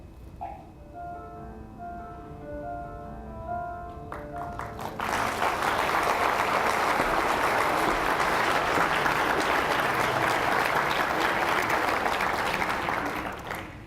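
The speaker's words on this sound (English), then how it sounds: "Thank you very much for that applause." Conference audience at an adult learners' event breaks into sustained applause after a few seconds of quieter tones, the clapping dense and steady, filling the room for the rest of the stretch with no talk over it.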